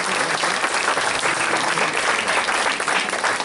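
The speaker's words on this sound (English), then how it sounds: "Round of applause, please, ladies and gentlemen." Sustained applause from a conference audience following a presentation, dense and steady throughout at close range with no voices over it.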